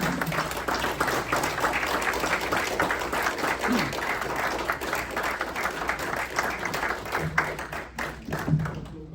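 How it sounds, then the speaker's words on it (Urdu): An audience at a book launch ceremony claps steadily to welcome poet Tufail Malik, a dense sustained round of applause from a room of people that thins slightly toward the end. "آپ سب کی بھرپور تالیوں میں طفیل ملک اگر ان کا کلام"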